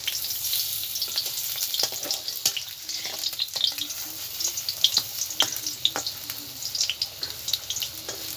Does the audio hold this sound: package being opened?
no